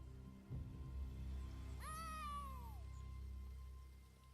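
A cat meows once in the Elder Scrolls Online video game, a single clear drawn-out call rising then falling over a steady low game ambience, fairly close and alone without talk.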